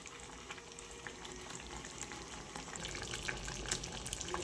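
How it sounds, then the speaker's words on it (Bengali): Chicken fries in ginger, garlic and onion paste, a continuous bubbling sizzle with faint crackles that swells slightly toward the end, heard alone at moderate distance. "চিকেন এদিকে কষা হচ্ছে।"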